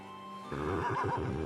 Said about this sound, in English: This is a marvelous horse.